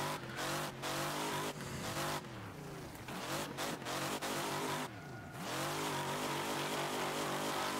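Race car in the Wreckfest driving game accelerating hard while sliding sideways, engine roaring loudly and continuously with rising and falling revs and brief tire squeal as the car drifts through a corner.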